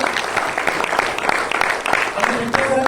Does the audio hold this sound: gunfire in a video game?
no